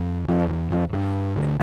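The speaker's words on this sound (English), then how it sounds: "The thing freaked out and had harmonic distortion that was almost as loud as the original signal." Heavily distorted, buzzy tones from an overdriven audio transformer shift between a few notes, the harmonics smeared and gritty, loud and close with no talking.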